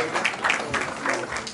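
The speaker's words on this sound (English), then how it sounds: "I think the lovely lady deserves a round of applause." Applause from an audience at a magazine launch and birthday celebration, a short burst of clapping mixed with a few voices and cheers.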